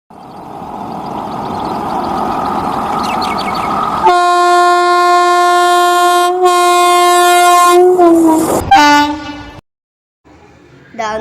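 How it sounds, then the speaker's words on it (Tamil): A train arriving at a railway station sounds its horn in a long, loud, sustained blast over rumbling wheels, with a second horn blast cutting off toward the end. "இதான் வந்துச்சு ட்ரெயின்."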